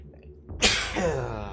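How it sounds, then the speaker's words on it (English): One sharp, close sneeze bursts out after a quiet moment during a livestream of the game Eternal Darkness: Sanity's Requiem, then trails off into a breathy exhale. "I had to sneeze."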